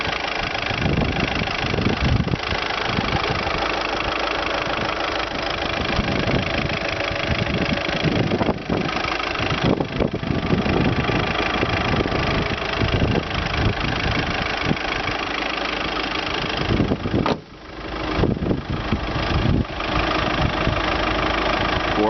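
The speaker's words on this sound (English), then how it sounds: "It is a 4-cylinder engine." A 2012 Volkswagen Passat four-cylinder engine idles steadily and loudly with an even mechanical drone, dipping briefly near the end before resuming.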